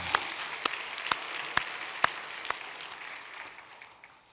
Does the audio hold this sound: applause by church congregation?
yes